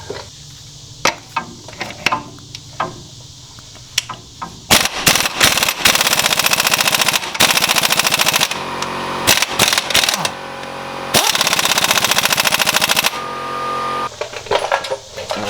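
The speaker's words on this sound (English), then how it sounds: "Get it down as tight as we can before we use the impact." On a Polaris RZR Pro XP, an impact wrench tightens a clutch removal tool in loud, close rattling bursts of a few seconds each, preceded by lighter metallic clicks and handling knocks.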